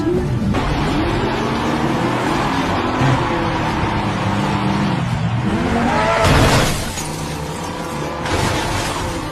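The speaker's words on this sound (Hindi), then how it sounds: "शुरू होने वाला है आज का सबसे रोमांचक कार रेसिंग मुकाबला" Race cars roar and whine through a car race, with engine pitch rising and sweeping as they pass. The sound is loud, continuous and close, with no talk over it.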